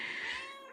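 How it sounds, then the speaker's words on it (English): A house cat lets out a single drawn-out meow that fades at the end, heard alone and fairly clear. "Excuse my cat in the background."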